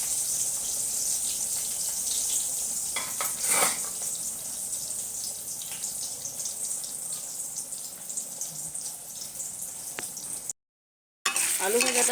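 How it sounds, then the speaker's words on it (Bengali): Potatoes frying in a pan in a home kitchen, a continuous close sizzle with watery crackle. A brief clatter occurs partway through, and a short silent gap comes near the end. "আলু ভাজাটাও করে নিচ্ছি"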